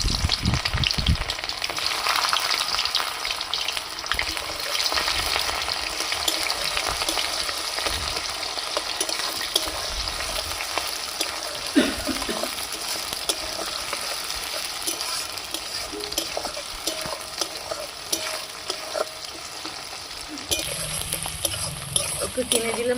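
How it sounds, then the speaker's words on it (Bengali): Sliced onions frying in oil with browned sugar, bay leaves and whole cumin over a wood-fired stove for Bengali mutton curry, a loud continuous sizzle with stirring throughout. "পেঁয়াজ ভাজা হয়ে গেছে"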